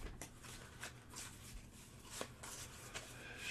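Soft riffling and patting of a deck of cards being shuffled, a few quick bursts close by with low background hum.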